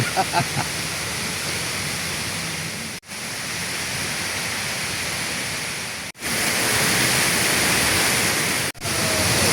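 Suban waterfall at Curup in Rejang Lebong roars as a loud, steady wash of falling water, broken by a few abrupt cuts.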